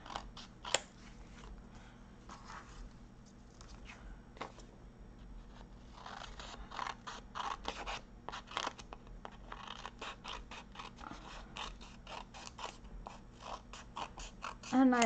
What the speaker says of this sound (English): I picked up the tiny scissors to cut this long piece